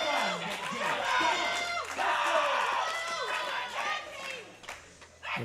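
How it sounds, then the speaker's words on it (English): Irish supporters in a powerlifting championship crowd cheer and shout energetically, a busy mix of whoops, chatter and scattered clapping that rises and falls, with commentary voices mixed in. "You can always hear the Irish team."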